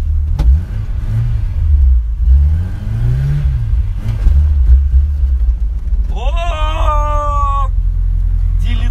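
Engine revving during a drifting test of a Mazda RX-8, BMW E36 or Ford Sierra, with rising and falling engine pitch and rough cabin rumble, then a sharp squeal of tyres near the end.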